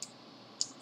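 Computer mouse double clicking on a desktop while working in an Excel spreadsheet, with two short, faint clicks spaced apart over quiet room noise.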